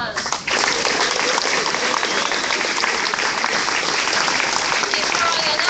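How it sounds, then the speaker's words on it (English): Sustained applause from a charity weekend audience at a New Jersey awards event, dense clapping filling the whole stretch with a voice speaking faintly beneath it. "Give yourselves a round of applause."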